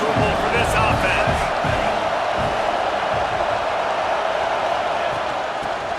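A loud, steady roar from a stadium crowd in the College Football 26 video game, a dense cheering wash that holds unbroken throughout with a few faint higher whoops, and no talk on top.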